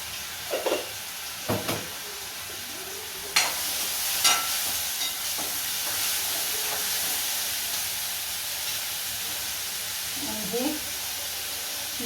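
Continuous frying hiss of onion sautéing in a pan on the heat, with occasional stirring clatters and scrapes; a voice is briefly heard near the end.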